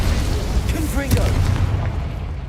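A Confringo fire spell in Hogwarts Legacy detonates with a deep, rumbling boom amid ongoing combat noise, while a voice briefly speaks over it.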